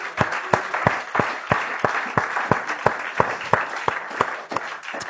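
Church congregation clapping in a steady rhythmic beat, about three claps per second, a crowd of hands sounding fairly close over a faint background murmur.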